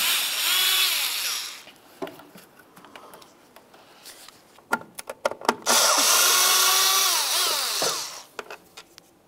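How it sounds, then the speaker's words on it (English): Power screwdriver backing Phillips head screws out while replacing a windshield washer nozzle on a 2003-2011 Mercury Grand Marquis: two loud whirring runs of the motor, close by, separated by scattered clicks and handling noises. "let's get those Phillips head screws"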